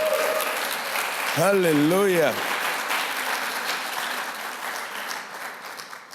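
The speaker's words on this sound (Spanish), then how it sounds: "Dele un fuerte aplauso al Señor." Church congregation applauding through a Spanish-language service, a loud steady wash of claps filling the room while a voice briefly exclaims over it.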